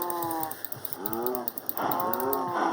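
Video-game cows on a compact beef farm let out several drawn-out moos in quick succession, loud and close over a faint mechanical hum, with no talk.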